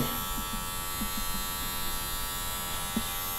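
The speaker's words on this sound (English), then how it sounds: "So I'm going to close my clipper all the way." Electric hair clipper with the blade closed all the way, tapering stubble at the back of the neck during a barbershop haircut; a steady close buzz runs throughout with faint scraping ticks, no talking.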